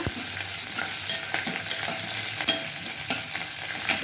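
Chilli, cumin, mustard seeds and curry leaves frying in a pan make a steady close sizzle, with soft stirring scrapes and light pops scattered throughout.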